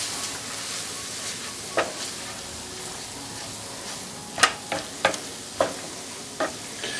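Flour being stirred into a seafood lasagna sauce in a pan: a faint, steady background hiss with a few sharp clicks and taps of a utensil against the pan scattered through, no talking.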